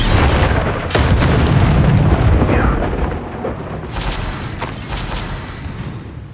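A Confringo explosive spell in the Hogwarts Legacy video game bursts with a loud, deep boom and crackling blast, then a rumbling roar that slowly fades over several seconds.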